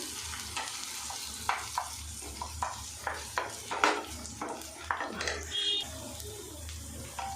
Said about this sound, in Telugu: అల్లం పేస్ట్ వేసి కలుపుతున్నా చూడండి